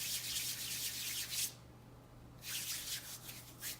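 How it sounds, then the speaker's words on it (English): Oily hands rub together in close, soft swishing bursts, two stretches of rubbing split by a short pause, faint and near, with no talk. "I'm just gonna take a bit of the oil and rub it on my hands."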